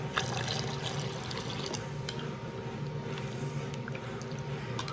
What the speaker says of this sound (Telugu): ఇప్పుడు సరిపడా వాటర్.